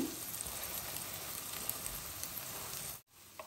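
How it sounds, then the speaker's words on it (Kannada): Wheat flour (chapati) dough breakfast fries crisp on both sides in a pan, giving a steady, close, even sizzle that carries on for about three seconds before it cuts out briefly. "ಎರಡು ಸೈಡ್ ಕೂಡ ಕಡಕ್ಕಾಗಿ ಫ್ರೈ ಮಾಡಿ."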